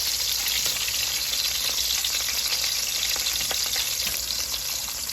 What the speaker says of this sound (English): Now I'm gonna add some onions and some garlic.